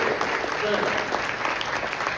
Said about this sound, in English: Give Patrick Moran another round of applause for the presentation of the day.